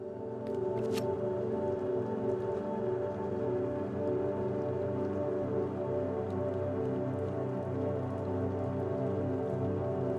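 Steady rain falls in the video game Dispatch, a dense, continuous hiss of drops with a few sharper patters near the start and no voices.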